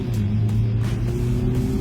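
Small car accelerating hard from a standstill toward 100 km/h, a steady loud engine drone with a strong low rumble held throughout a short burst, no speech.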